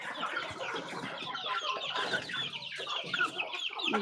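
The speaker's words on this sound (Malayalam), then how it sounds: "ഇത് ഞാൻ കോഴക്ക് തീറ്റ കൊടുക്കട്ടെ" A flock of chickens clucks steadily while being fed, a dense, continuous chorus of close clucks and squawks with no pauses.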